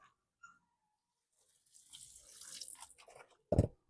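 Water splashes and sloshes for a couple of seconds as laundry is rinsed by hand in a river, ending in a sharper, louder splash, with a few faint clicks before it.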